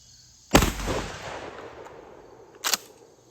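A horizontal magazine-fed shotgun fires buckshot on a shooting range: one loud sharp blast with a decaying echo, followed about two seconds later by a shorter metallic clack.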